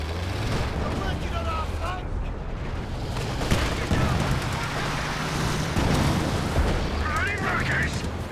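Howitzer artillery fires in the Company of Heroes 2 video game, distant booms and rumbling shell impacts rolling under steady battle noise while a commentator talks over the top.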